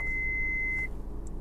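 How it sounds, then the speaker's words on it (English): A sustained electronic beep from a Suzuki Jimny 5-door GL's warning chime rings steadily for just under a second over low engine and road rumble, then cuts off, leaving the idle hum alone. "That's that beep you heard."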